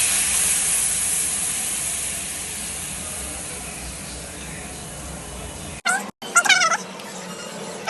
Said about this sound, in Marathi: तर आपण दूध घालत आहेत